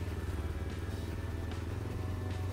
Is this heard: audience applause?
no